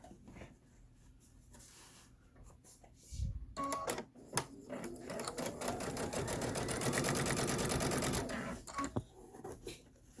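A sewing machine stitches a pillow top seam, starting after a few quiet seconds and running in a fast, steady mechanical rattle for several seconds close up, then stopping.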